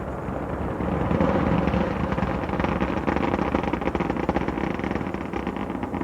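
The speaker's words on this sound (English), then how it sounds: "Engines are throttling back now, helping ease Discovery through the dense lower altitudes as it continues to accelerate rapidly" Space Shuttle Discovery's engines during launch ascent from Complex 39A, a continuous loud, broad roar rumbling steadily throughout without any break.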